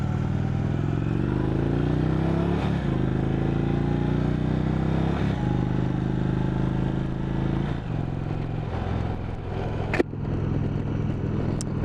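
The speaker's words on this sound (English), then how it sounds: "this is of course a big old air-cooled V-twin" An Indian Roadmaster's big air-cooled V-twin engine drones steadily under way, a loud and continuous rumble with rising and falling pitch as the bike accelerates and shifts, plus wind noise and a brief sharp click near the end.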